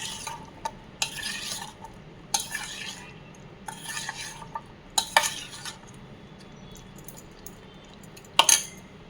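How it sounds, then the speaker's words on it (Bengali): Spoon stirring chopped capsicum into a mixture in a bowl, with a few scraping, clinking strokes in irregular bursts, close and moderately loud, no voices. "এইটা কি করবো আমি এখন চামচ চামচের সাহায্যে মিশিয়ে নেবো"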